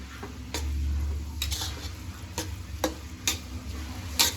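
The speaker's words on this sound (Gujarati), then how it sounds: "હવે ધીમે તાપે શેકી લઈએ એકદમ બદામી કલરનું થઈ જાય" Gram flour dough roasts in ghee over a low flame, giving a soft continuous sizzle with sharp, irregular clicks and scrapes of a spoon against the pan.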